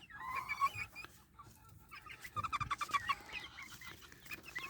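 Several Kewata chickens, including a large rooster, cluck and squawk nearby, with sharper, higher calls breaking out in two short spells; no one speaks.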